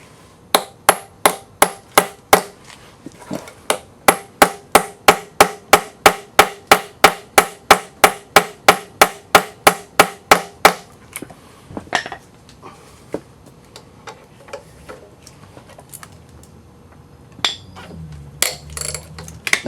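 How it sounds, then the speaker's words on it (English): Hammer striking a bolt extractor driven into a stripped timing belt bolt on an Audi A4 B5 1.8T, about thirty sharp, evenly spaced metallic taps close up, then a few scattered knocks and tool clatter. "We're just going to keep tapping it in there until we get it seated all the way and it breaks loose"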